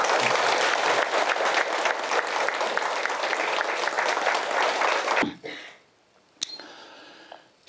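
Large audience applauding loudly and steadily for a monk's dharma talk at a Buddhist gathering, dense clapping that stops abruptly after about five seconds, leaving quiet room noise and a sharp knock.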